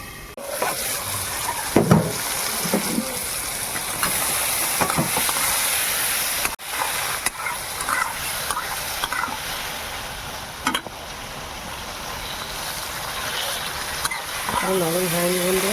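Tomatoes and green chillies frying in a covered pan while cooking a Bengali fish and tamarind sour dish, a steady close sizzle and hiss running throughout with occasional stirring clinks.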